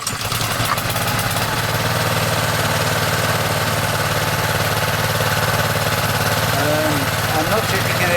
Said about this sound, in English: I'm not sure if you can hear my voice over the engine, but that'll give you a balance as to how loud it is.